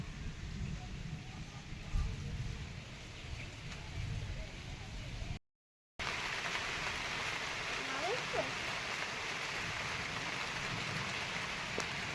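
Steady unseasonal rain patters on surfaces in Konkan, India, a dense even hiss with a brief cut partway through; no voices stand out.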